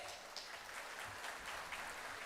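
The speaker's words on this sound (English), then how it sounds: "Let's give a round of applause to welcome our chief guest." Applause at a kindergarten graduation ceremony welcoming the chief guest, a steady wash of many hands clapping at a moderate distance, fairly quiet and continuous throughout.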